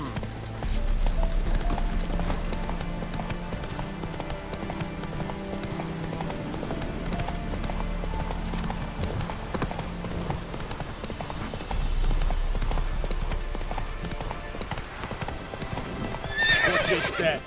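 A horse gallops in The Witcher 3, its hooves clip-clopping steadily and prominently over game music, with a neigh breaking in near the end.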